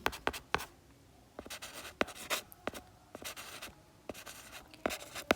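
Chalk or marker strokes on a classroom board come in short, scratchy bursts with pauses between them, close and clear with no talking.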